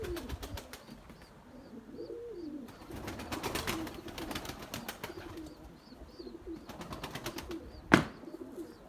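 White pigeons coo softly and repeatedly, mixed with bursts of fluttering and a sharp click near the end, in strong wind.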